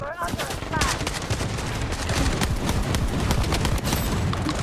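Rapid shotgun blasts in a first-person shooter video game, a dense run of loud overlapping gunfire filling the whole stretch with little pause.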